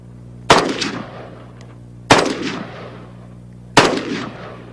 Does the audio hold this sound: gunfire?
yes